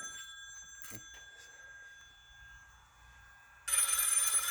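A telephone rings loudly near the end, a sharp burst of bright electronic ringing that cuts in after several seconds of faint background hiss and a few soft knocks.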